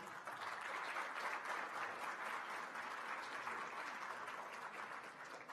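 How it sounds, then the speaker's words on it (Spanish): An audience at a university lecture on open education claps warmly to welcome an embassy diplomat, a dense, even round of applause heard fairly faint and distant with no voices over it. "el señor Anuj Kumar Saha, a quien lo vamos a saludar con nuestro cariñoso aplauso"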